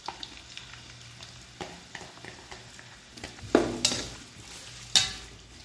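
Roughly cut large onions sizzle in hot oil with cinnamon, cardamom and cloves while being stirred for quail biryani, a soft steady crackle broken by several sharp scraping stirs near the end.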